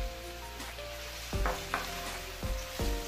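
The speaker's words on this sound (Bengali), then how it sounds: "এখন আমি এটা আস্তে আস্তে আপনার ভাজবো" Finely chopped onions and garam masala frying in oil, a continuous close sizzle broken by a few stirring scrapes of a spoon against the pot, with no voices.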